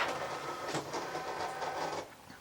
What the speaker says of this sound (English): I'm going to load my machine with my duct tape or my mat